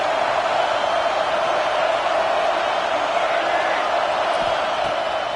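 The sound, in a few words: football stadium crowd cheering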